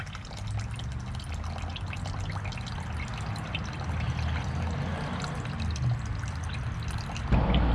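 Water drains steadily out of a Dingo 950P mini skid steer bought secondhand, pouring and trickling continuously at close range with a brief thump near the end.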